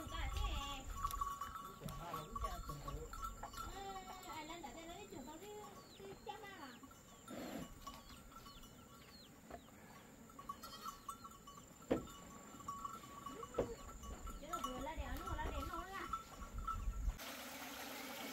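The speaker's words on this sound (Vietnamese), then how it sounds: "đang thả dê." Goats bleat repeatedly while being let out to graze in a rural hillside setting, with scattered calls near and far over low outdoor background noise.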